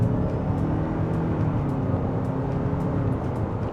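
Toyota RAV4 GR driven hard in sport mode, a steady, loud engine and road drone holding constant from the cabin with no breaks or speech.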